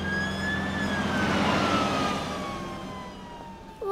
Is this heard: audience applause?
no